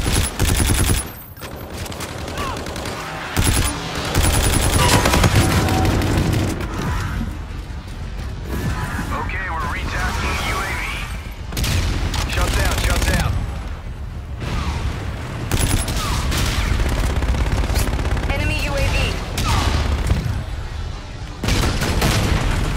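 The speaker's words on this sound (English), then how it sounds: "Inbound for gun run." Call of Duty: Infinite Warfare gun run strafing, a loud, dense barrage of rapid gunfire and explosive booms that keeps going almost without a break, with short mechanical clatters in between.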